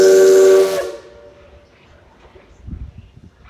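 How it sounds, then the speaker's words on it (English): A loud Southern three-chime steam locomotive departure whistle sounds a rich, multi-tone chord for under a second, then cuts off into quiet hiss and faint rumble. "that's the sound of the departure whistle of the Southern Three Chime"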